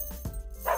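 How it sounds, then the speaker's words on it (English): A dog, shown in a doll-crafts segment, gives a couple of short yips and barks in quick succession, nearby and moderately loud over a faint background hum. "You can hear him barking from miles away!"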